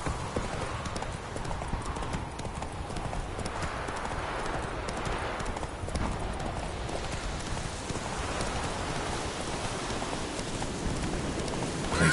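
A horse gallops steadily in The Witcher 3, a fast, dense run of hoofbeats under a wash of outdoor game ambience that holds at an even, moderate level throughout.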